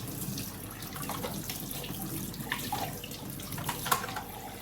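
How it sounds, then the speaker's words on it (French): Tap water runs steadily over a washable filter screen from an ILIFE W90 wet-dry vacuum cleaner, a continuous hiss and splash at close range with a few brief louder spatters. "Je passe ça sous l'eau."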